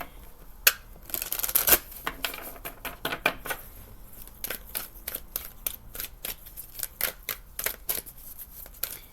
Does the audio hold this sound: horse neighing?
no